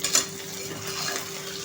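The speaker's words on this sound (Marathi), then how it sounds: "आणि 2 मिनिटं भोपळा आपण परतून घ्यायचा आहे" Bottle gourd (dudhi) pieces sautéing in a pan with garlic, a steady soft sizzle with light stirring scrapes and one brief clink near the start, fairly quiet throughout.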